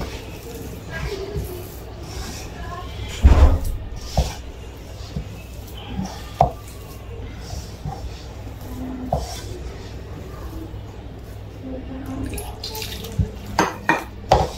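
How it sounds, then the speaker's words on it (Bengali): Water is poured into rice flour for root pitha dough and worked in by hand in a bowl, with soft wet rubbing, dish clatter and a louder clink around the third second. "একটু পানি দিয়ে দিলাম,"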